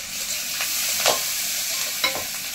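Six chopped green chillies drop into hot oil over onions and spices in a fish-roe curry pan, with a dense, close, continuous sizzle and a few sharp crackles and stirring scrapes.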